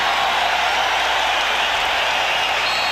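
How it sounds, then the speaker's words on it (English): Capacity home crowd at Chicago Stadium roaring steadily through a 1992 Bulls–Knicks Game 7 playoff broadcast, a dense, loud, unbroken wash of cheering with no breaks. "This capacity crowd at Chicago Stadium looking to pump up the home team."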